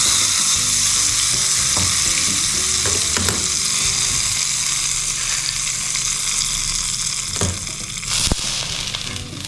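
Hot tempering oil is poured into Telangana-style pachi pulusu and sets off a loud, dense crackling sizzle that holds steady, with a few sharp clinks of a utensil against the pot near the end.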